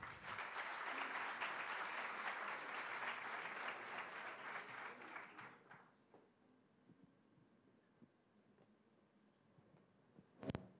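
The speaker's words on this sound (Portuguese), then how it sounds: "Uma salva de palmas ao professor Ismael Rocha" An audience applauds a professor walking on stage at an academic talk, with dense, loud clapping for about six seconds that then fades to a quiet room with a faint hum and a brief knock at the end.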